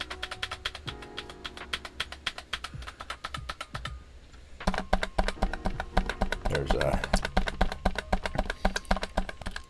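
Low-profile switches on a Redragon K652 keyboard clatter in rapid, irregular keystrokes with a noticeable metallic ping. There is a short pause partway through, then the typing resumes faster and louder.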